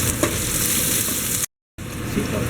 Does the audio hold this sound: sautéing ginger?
yes